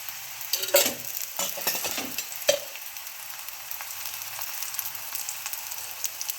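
Makki ki roti, a thick corn flatbread, cooking slowly in ghee on a griddle over low heat, with a soft steady sizzle and a few louder scraping or stirring touches early on, no voices.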